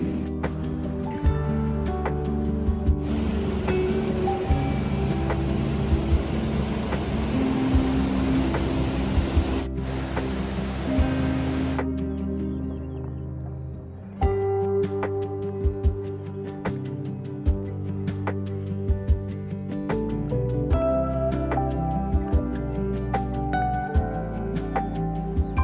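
A raging river rushes through a pine forest near Silver Pass on the Pacific Crest Trail, a loud continuous roar of water with shifting turbulent texture, heard alone without talk.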